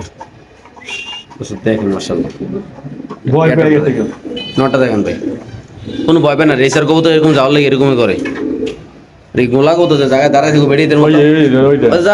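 A male pigeon coos repeatedly in long, throaty rolling phrases, loud and close, with short pauses between bursts.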